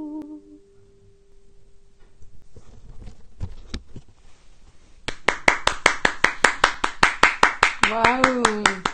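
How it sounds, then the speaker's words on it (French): Rhythmic clapping after a song at a live French music show, starting after a quieter stretch of shuffling and a brief voice, then a run of evenly spaced, sharp claps with a voice rising over the last beats. "Sous les applaudissements, n'est-ce pas?"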